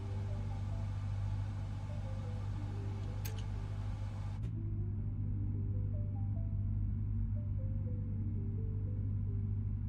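A steady low aircraft engine drone in Microsoft Flight Simulator 2024 as fuel is added, holding a constant rumble with slowly stepping tones throughout, a brief high click midway, and no talk.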